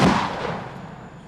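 A Dragon Slug incendiary shotgun round fires in one sharp blast that rolls off into a fading roar and crackle, loud and close, with no other sound around it.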